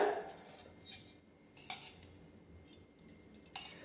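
A metal spoon clinks lightly against a pan a few times as ghee is spooned in, sparse quiet taps over a soft kitchen background with no talking.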